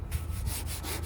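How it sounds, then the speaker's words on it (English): Sandpaper rubs back and forth over primer on a Mazda Miata car body in steady, rhythmic strokes, close and fairly quiet, with no talking. "But for now, just gotta get sanding. Now this is nice and primer-ish."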